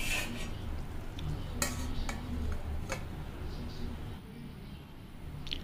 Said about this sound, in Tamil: இப்போ எல்லாத்தையும் வந்து நல்லா மிக்ஸ் பண்ணிவிட்டு ஒரு தட்டை வச்சு நல்லா வந்து மூடிடலாம்.